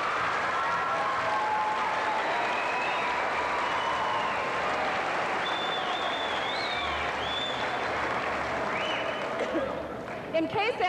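Sustained applause from a crowd honoring students at a 1997 Richmond High graduation, even and fairly distant-sounding, with faint whistles and calls mixed in before it thins near the end.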